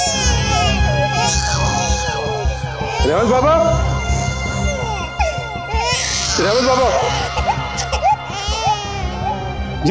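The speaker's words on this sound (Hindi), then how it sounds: "कोई बच्चा रो रहा है।" An infant cries in wailing, rising bursts under a steady bed of background music, with brief breaks in between and the crying running loud throughout.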